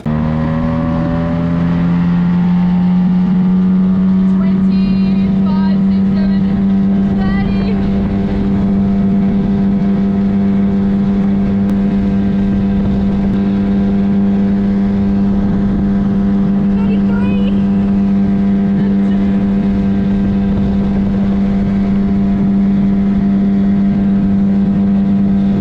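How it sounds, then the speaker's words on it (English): A Quickboat RC boat motor revs up into a loud, steady high-pitched whine. Its pitch climbs at the start, then holds nearly constant and close for the rest of the run. "Let's test this boat out."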